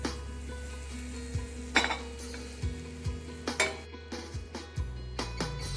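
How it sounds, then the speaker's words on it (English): About two tablespoons of butter melt in a pan for a chicken lasagna sauce, giving a faint, quiet sizzle under a low hum, with several light clinks and knocks of utensils against the pan. "So first thing is putting around 2 tablespoons of butter in a pan."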